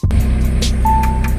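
A Toyota Starlet engine idles steadily up close, a continuous low rumble that carries on unchanged, with a thin whine entering partway through.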